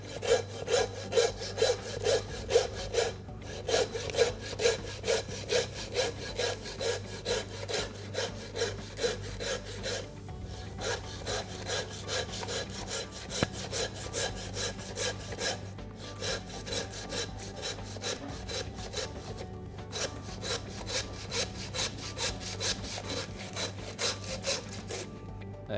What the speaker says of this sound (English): next I'm going to saw straight down the middle, because I want to split these both in half.